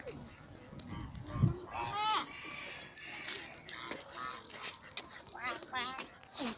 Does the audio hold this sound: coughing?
no